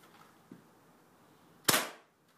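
Airsoft L96 sniper rifle firing at a box: one sharp, loud spring-powered crack with a short tail, preceded by a faint small click, with no talk.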